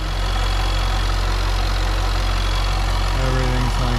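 A Jaguar F-Type R engine idles after a crank pulley installation, a loud, steady low rumble close by with a faint tonal whine joining near the end.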